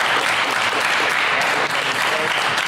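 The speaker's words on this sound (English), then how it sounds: "Everybody give our speakers a round of applause." Steady, loud applause from an audience thanking the speakers after a panel discussion, dense clapping filling the whole stretch without a break.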